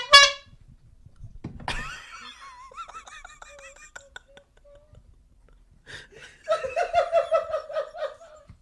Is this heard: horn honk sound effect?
yes